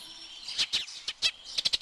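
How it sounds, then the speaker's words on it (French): Short, bright chirps of a house sparrow in Côtes d'Armor, scattered singly at first and then in a quick run of rapid peeps at the end, close and clear against a quiet background. "moineau des villes"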